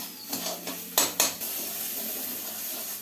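Vegetables for shukto stirred in a pan, a few sharp metallic scrapes and clinks of a spoon against the pan over a soft background sizzle, fairly quiet and brief.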